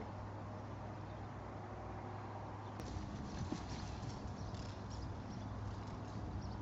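A horse breaking out into a lope, rolling over its hindquarter; steady hoofbeats sound through constant broadband noise, with a brief sharp click near the middle and no voices.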